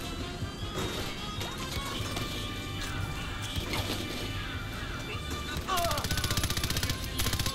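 Gunfire from a sniper fight in the video game Far Cry 4 cracks in scattered shots and a rapid burst near the end, layered over dense game action while a player shouts.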